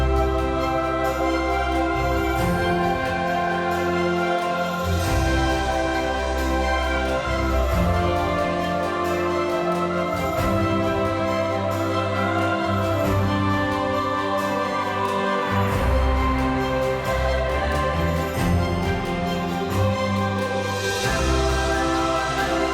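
Full orchestral arrangement with choir, a moving bass line and driving percussion playing together, dense and continuous at steady loudness throughout with no talking.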